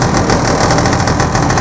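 A boat outboard motor runs during break-in, a loud, close, steady mechanical drone with a faint rhythmic pulsing and no voices.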